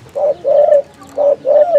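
A spotted dove coos nearby, loud and clear, in four short rounded calls in two pairs separated by a brief pause.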